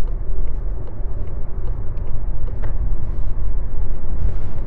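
Inside a VW e-Golf electric car at 80 km/h, a steady broadband road and tyre rumble with wind noise fills the cabin, continuous and fairly loud, with small knocks and no voices.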